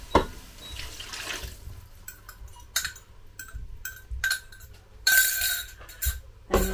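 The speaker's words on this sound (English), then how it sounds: "To add in all the remaining stock now." Leftover chicken stock pours into a Ninja Speedi cooking pot for Spanish chicken with rice, a short splashing liquid stream followed by intermittent clinks and drips, close and fairly loud.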